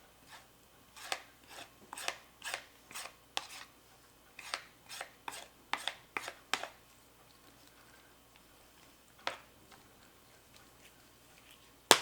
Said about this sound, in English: these are not going to peel, so I'm just going to scrape it